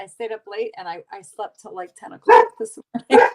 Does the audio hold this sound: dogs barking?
yes